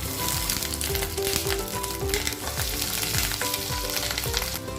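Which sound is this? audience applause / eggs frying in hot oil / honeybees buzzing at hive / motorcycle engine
eggs frying in hot oil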